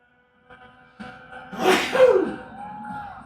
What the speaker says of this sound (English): 2 sneezes for free.